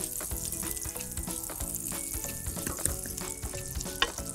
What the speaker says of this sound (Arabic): هلا صار فينا نحط الزبدة والزيت